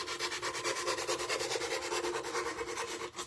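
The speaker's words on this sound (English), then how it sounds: "Your sanding is going to pull off all of that." Sandpaper is rubbed by hand over an old toolbox coated in milk paint and beeswax, giving a close, dry scratching in quick back-and-forth strokes that repeat steadily with no talking.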